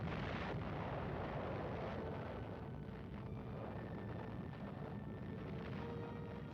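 Atomic bomb blast on Eniwetok atoll in the Pacific, a sustained deep roar and rumble that fills the whole stretch steadily, with no break or separate bursts.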